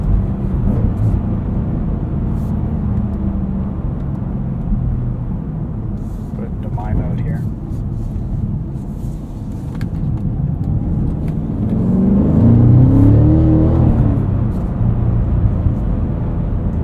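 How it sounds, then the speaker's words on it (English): A 2024 Cadillac CT5-V Blackwing's engine and exhaust stay a muted low drone while driving in tour mode, rising slightly toward the end. "But the exhaust is nice and muted in tour mode."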